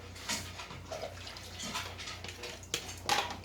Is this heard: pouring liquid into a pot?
yes